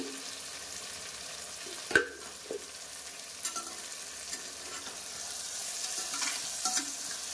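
Capsicum with butter and a little ghee sizzles gently in a pan while a utensil stirs, giving a few sharp clacks and scrapes over a low, steady frying hiss.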